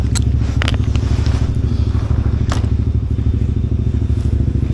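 A motorcycle idles near the summit of Mount Telomoyo with a loud, steady, rapid engine putter. A few sharp clicks and clatters sound over it as the bike is locked.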